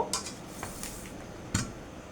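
A knife cuts through flat beans (shim) on a board, giving two or three crisp, close chops in a clear space, with no talk.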